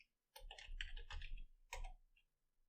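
Quiet burst of rapid typing on a computer keyboard while coding a restaurant website, with dense close clicking in a few clusters over about two seconds and no voice.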